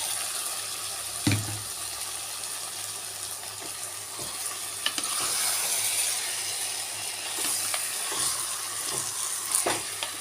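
Chicken frying with onions and tomatoes in a pan for pepper chicken, giving a steady close hiss of sizzling oil with occasional sharp clicks and spatula taps.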